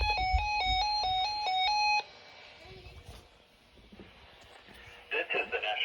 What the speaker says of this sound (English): The signal you just heard was our weekly test of the No Weather Radio warning alarm system.